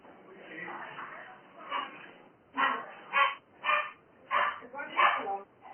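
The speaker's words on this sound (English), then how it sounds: "Just hold on. My dog." Dog barking indoors at home, a run of about six loud, evenly spaced barks in the second half after fainter, muffled yaps, with a person talking over the start.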